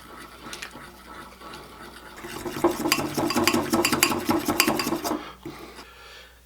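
Peanut butter glaze being stirred with a splash of milk in a bowl, a steady scraping and clinking of utensil against the dish that builds in the middle and fades out, close and alone.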